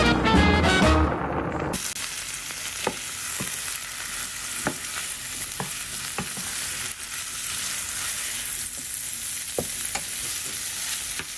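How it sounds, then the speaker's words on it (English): Gravy made from gravy granules being stirred in a pan, a steady broadband hiss with a series of soft, evenly spaced utensil taps and scrapes, close and moderately loud; a brief tonal burst at the start precedes the stirring, with no talking. "I'm gonna go ahead and stir up my gravy using the gravy granules I mentioned in a previous video."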